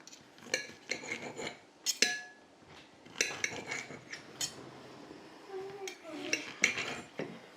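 A knife and utensils clink against a plate or board while Boerewors sausage is cut into sections, with irregular sharp taps and scrapes, fairly close and moderately quiet, a faint voice in between.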